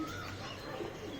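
A soft, low Madrasi pigeon coo rises and falls in a short phrase, heard faintly against quiet background noise, from a training kit of nine birds in Mumbai.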